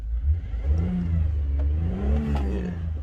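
A Toyota Avalon engine revs as the gas pedal is pressed, heard close: a mid-pitched engine drone that rises and falls in pitch through several swells, with no talk.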